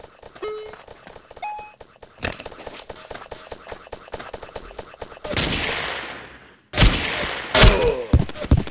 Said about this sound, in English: Who's shooting us?